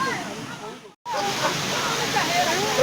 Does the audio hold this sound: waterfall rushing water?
yes